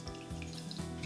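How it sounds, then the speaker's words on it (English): Boiling hot water poured from a kettle onto raspberry jelly powder in a bowl, a steady close splashing and trickling stream that runs throughout the short moment, with no talking. "to that we're going to add 1 cup of boiling hot water"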